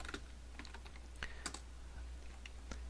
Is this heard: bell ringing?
no